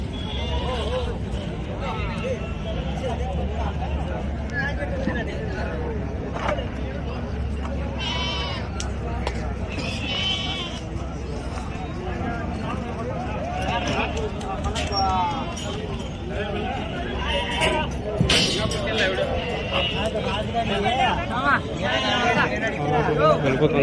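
Goats bleat at a busy goat market, with intermittent calls rising now and then under continuous nearby talk and crowd noise.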